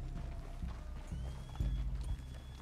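Horse hooves clip-clopping at a steady walking rhythm in the video game Red Dead Redemption 2, close and moderately loud, with low game ambience beneath.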